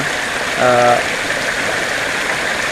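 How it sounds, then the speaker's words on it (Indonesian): Steady rain falls on a hillside during a climb while food is cooked outdoors, a dense even hiss throughout, with a brief voice speaking over it near the start. "Kena hujan."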